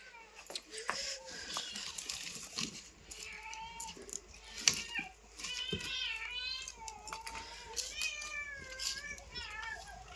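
Four kittens in a home meow repeatedly, giving high, wavering calls that overlap one another. The calls are fairly faint against a quiet room, with occasional light rattles.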